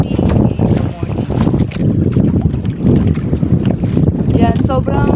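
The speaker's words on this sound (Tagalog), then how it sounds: "Yan, sobrang lakas ni hangin habagat" Strong monsoon wind roars over the sea around a small fishing boat before dawn, a loud continuous rush with buffeting gusts on the microphone and the churn of fast water, no voices, steady throughout.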